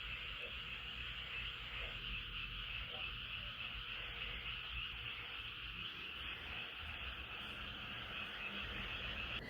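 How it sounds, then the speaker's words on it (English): Frogs croak outdoors near green fields in the Camp Humphreys area of Pyeongtaek, a dense, continuous chorus of overlapping calls mixed with a steady high insect drone. "And insect sound and also frog sound."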